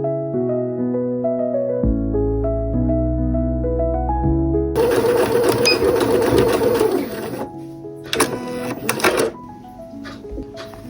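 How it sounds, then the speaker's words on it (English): A sewing machine stitching fabric for a sling bag with a dog-bag dispenser runs in a loud, continuous mechanical whir for several seconds, then gives shorter bursts with brief pauses between them. "sew along the top, sew along the bottom"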